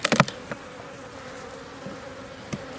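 Honey bees buzzing around an opened hive with brood frames pulled apart, a soft steady drone with several sharp close clicks and a few louder passes near the listener.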